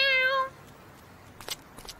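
A cartoon cat from Boonie Bears gives a single short, bright meow lasting about half a second, followed by near silence with a few faint clicks.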